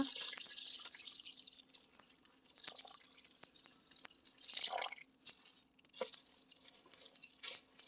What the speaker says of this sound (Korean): 지금 방금 만든 이 소금물을 부어 주겠습니다